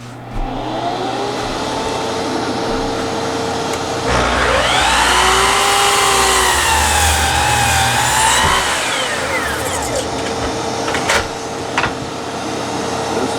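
Miter saw spinning up and biting through a board while a dust collector drones underneath, the blade's whine rising and holding for several seconds before winding down, loud and close, with no talking.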